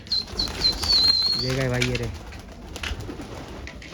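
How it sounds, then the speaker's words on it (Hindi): Pigeons fly over a rooftop: wings flap in a quick flutter, then a low cooing call rises in the middle, with a voice speaking briefly over the outdoor background. "देखो कबूतर भी उड़ रहे हैं औरों के, 15-20 नए औरों के कबूतर भी उड़ रहे हैं"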